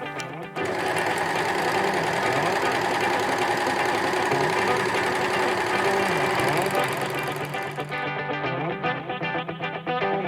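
An Amber Air S400 overlocker stitches fabric with its presser foot lowered, running in a steady, loud, continuous mechanical whir with rapid needle clatter that carries on without a break until it slows near the end.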